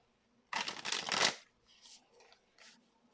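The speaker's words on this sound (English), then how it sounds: "This deck is so thick and I still can shuffle it." A thick tarot deck being shuffled, one loud burst of riffling card flutter lasting under a second, followed by fainter soft card handling and shifting.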